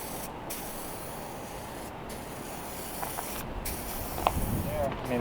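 A spray paint can hisses in steady bursts while coating the interior of a 1934 Ford Tudor sedan outdoors on a windy day. The spray is quiet, with short pauses between passes and faint clicks and rattles.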